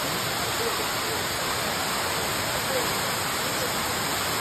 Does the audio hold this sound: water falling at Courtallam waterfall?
yes